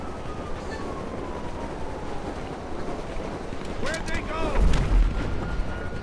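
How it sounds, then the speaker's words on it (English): Vehicle-mounted gunfire in GTA Online, a burst of loud rapid shots toward the end over a busy, rumbling game soundscape with a person talking throughout. "Holy crap, this thing is shooting."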